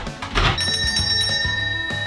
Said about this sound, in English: We got a bell.